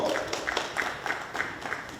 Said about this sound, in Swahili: Makofi ya kilo.